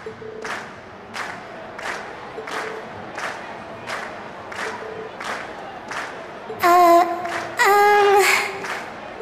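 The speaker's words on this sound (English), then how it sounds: "we've heard your cheers loud and clear" A crowd cheers in the video game Trails of Cold Steel, at the end of a stage performance. A steady din of voices pulses in a regular rhythm, and then bright electronic chimes sound near the end.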